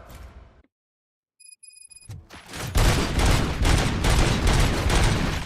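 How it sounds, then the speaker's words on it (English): Gunfire in the video game RoboCop: Rogue City erupts as a loud, continuous burst of rapid shots after a brief silence and a few electronic beeps, filling the scene with dense, sustained firing. "Gunshots? What's going on?"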